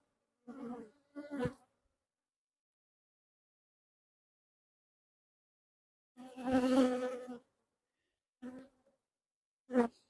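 Honeybees from the Poppleton hive during an October inspection, several short buzzing passes as individual bees fly close by, separated by long stretches of near silence, each burst brief and fairly faint.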